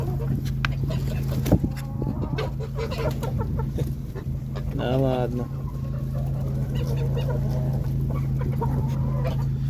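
Hens cluck and murmur inside a village chicken coop, with steady close clucking throughout, a brief louder squawk run in the middle, a constant low hum beneath, and someone speaking briefly over it.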